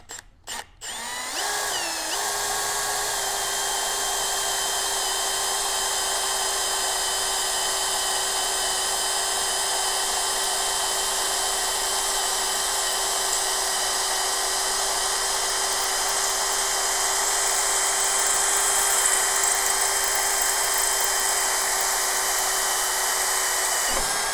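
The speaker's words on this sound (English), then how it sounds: "So I'm going to clamp this in place again, and we'll drill down through here real quick." A power drill runs steadily for over twenty seconds, boring down through metal tubing held in a centering drill bushing, with a constant high whine that starts abruptly after a few clicks and holds at near, loud level.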